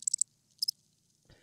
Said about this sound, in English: That's why I hit the crickets.